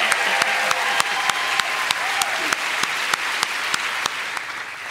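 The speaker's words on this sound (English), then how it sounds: "Let's clap those people who have come," Steady applause from a large conference audience fills the whole stretch, dense and continuous with sharper individual claps popping out near the front, with no talking over it.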